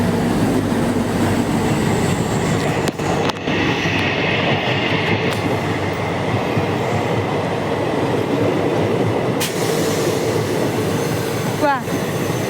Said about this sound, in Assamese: ৰ'ব ট্ৰেইনখন গৈ লওক ৰ'ব।